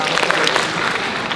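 Audience clapping at a keynote address for a meetings conference, a dense burst of many hands filling the room for just over a second, steady and fairly loud with no distinct two-beat pattern.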